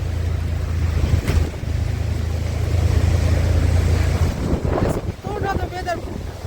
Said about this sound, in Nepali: यस्तो डरलाग्दो हावा साथीहरू हेर्नुहोस् त यहाँनिर खर्सेको वेदर